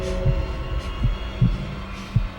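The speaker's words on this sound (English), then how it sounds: "his heart beat on with a muffled sound" A muffled heartbeat thumps in an audio drama, four dull, evenly spaced low beats under a faint steady hum.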